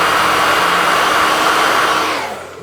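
A loud, steady whoosh of a hair dryer blowing close up as it dries a treated car interior surface during a restoration, then tapering off at the end.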